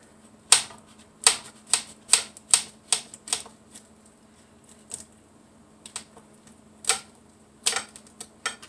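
A knife cuts through a tall toasted sandwich piled with avocado and bacon, making a close series of sharp, crisp crunches in an uneven rhythm. The crunches are bunched early, then sparser, with quiet gaps between them.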